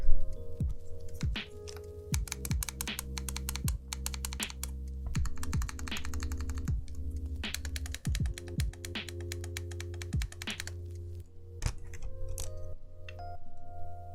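Continuous typing on an Allison prototype mechanical keyboard fitted with Holy Panda switches, close and crisp, with dense rapid keystrokes and brief pauses throughout.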